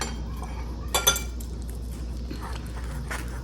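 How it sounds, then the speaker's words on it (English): Cutlery clinks on a plate while a fork and knife cut into avocado toast topped with egg, a couple of close, bright chinks against a quiet low hum. "I'm gonna cut into it because I want a piece of egg."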